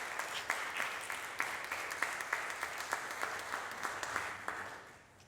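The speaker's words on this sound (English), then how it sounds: "Let's give another round of applause to all our speakers and volunteers." A symposium audience claps together in a brisk, moderately loud round of applause with individual claps distinct, tapering off and fading out at the very end.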